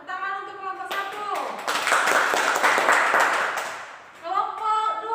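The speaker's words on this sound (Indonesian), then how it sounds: "Tepuk tangan untuk kelompok 1." A classroom of students claps for a group after its answer, a burst of dense hand clapping lasting a few seconds between stretches of a teacher's speaking voice.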